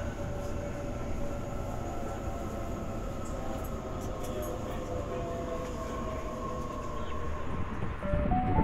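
A Sydney Trains suburban electric train runs along at a steady pace between Liverpool and Canley Vale, a continuous rumble and hum with a brief rise and squeal near the end.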